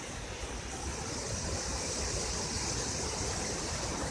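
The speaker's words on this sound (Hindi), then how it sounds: "बीच में से बहती ये नदी बहुत ही मनमोहक यहाँ दृश्य प्रस्तुत कर रही है" River flowing through green valley at Barot, Himachal Pradesh, a steady dense rush of water, close and constant with no breaks.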